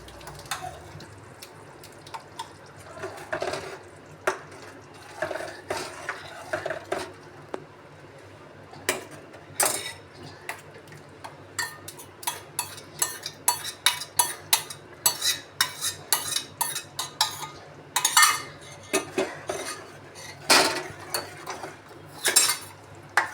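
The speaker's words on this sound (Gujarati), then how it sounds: "હવે એની અંદર આપણે નાખશું કાંદાની ગ્રેવી" Onion gravy goes into bubbling tomato puree in a pan for a restaurant-style Punjabi curry base, with a spoon clinking and scraping against the metal in close, irregular bursts that quicken toward the end.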